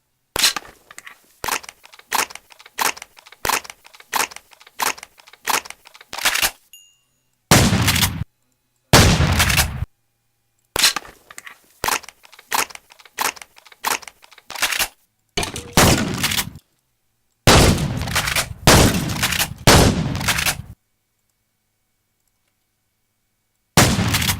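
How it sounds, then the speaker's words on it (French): A shotgun fires in the video game Nation Glory, sharp blasts in quick regular series, then heavier isolated booms separated by silent gaps, loud and close with no talk. "c'est tout comme fusil à pompe"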